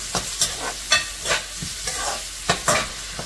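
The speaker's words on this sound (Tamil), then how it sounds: "வெங்காயம் கொஞ்சம் நல்லா வதக்கிக்கலாம்." Onions sauté, sizzling and crackling in a hot pan for mutton kurma, broken up by several sharp stirring scrapes at an uneven rhythm, close and steady.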